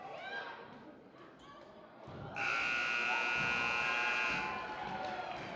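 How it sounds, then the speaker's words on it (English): A basketball game-end buzzer at a high school girls' game sounds as one long, loud sustained tone lasting about two seconds over gym crowd noise, with commentary talk before it. "And the buzzer sounds."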